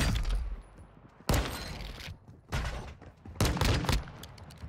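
Three sharp bursts of gunfire, each a loud crack with a short decaying tail, spaced about a second apart with quieter gaps between.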